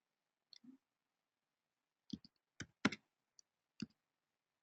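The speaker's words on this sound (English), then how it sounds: "what I'm doing to fix this is I click pause really quick" Quiet, close computer mouse clicks come in a few short sparse bursts over near silence, single and double clicks spaced irregularly with no voices.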